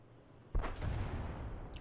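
M44 self-propelled artillery firing in World of Tanks, a single deep boom that erupts suddenly after a quiet moment and rolls on as a low rumbling tail.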